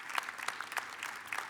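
A commencement ceremony audience claps in a dense, steady patter of applause, moderately distant and fairly quiet, with no voices over it.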